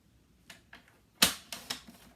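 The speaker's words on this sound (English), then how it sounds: "you can see how I'm using my trimmer here" A paper trimmer slicing card stock for a card-making project with alcohol markers, heard as a few short, close scraping swipes and clicks, one louder sharp cut in the middle followed by quieter strokes.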